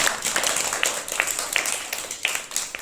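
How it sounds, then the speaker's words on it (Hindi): Group clapping for a little girl during a children's counting game at home, a run of sharp hand claps in a loose rhythm, fairly close, with faint voices around. "तालियां बजाओ छोटी के लिए"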